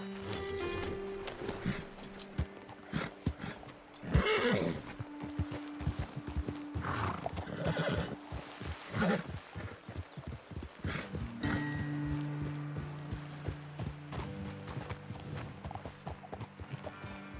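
Horses clop along steadily on hard ground in Red Dead Redemption 2, hooves thudding close by, with a couple of whinnies and neighs rising over the game's background music.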